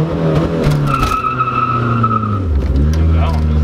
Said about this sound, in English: this would be one last little tire squeal